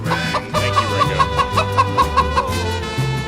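A chicken-clucking sound effect plays as a rapid, steady run of bright, close clucks over a busy musical bed, with no speech.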